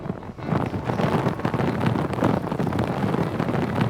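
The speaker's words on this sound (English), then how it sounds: "It's so windy." Strong wind roars steadily against the microphone on a sea cliff, a dense, continuous rushing buffet with slight gusting swells and no voices.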